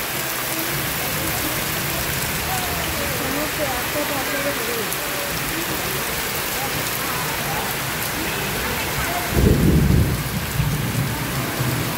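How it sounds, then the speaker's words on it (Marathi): Heavy rain pours down steadily over a village rice field during harvest season, with a loud burst of thunder rumbling close by near the end of the downpour. "खूप पाऊस आहे बघा."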